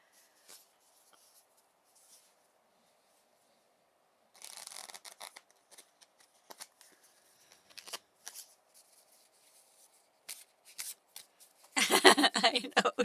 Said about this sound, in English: We are going to give the cards a quick shuffle for you.